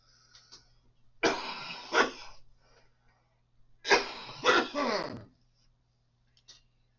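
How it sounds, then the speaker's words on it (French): Two bursts of harsh coughing from someone just recovering from Covid, each a quick double cough, close and fairly loud against a quiet background with a faint low hum. "Excusez-moi, il faut que je tousse"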